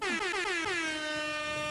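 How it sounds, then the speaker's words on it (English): An air horn blasts from a podcast studio soundboard, one loud sustained honk with a descending pitch wobble at the start, heard alone with no talk over it. "You have to do the air horn, Jaron."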